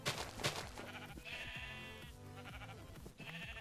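Sheep in the Minecraft video game bleat several times in a row, with each wavering bleat clear and close and no talking over them.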